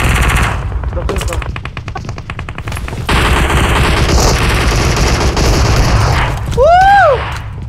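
Rapid automatic gunfire from PUBG Mobile, loud and close in sustained bursts, joined by heavier booming shots, while players shout in Arabic and a rising electronic whine cuts in near the end.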